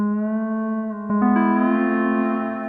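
Lowrey touchscreen organ playing a Hawaiian guitar voice, a sustained tone that glides and bends upward in pitch midway, heard alone and close.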